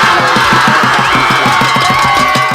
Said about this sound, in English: that's the cheer coach, Miss Heather, joining the sanctuary to cheer on the St. Clair County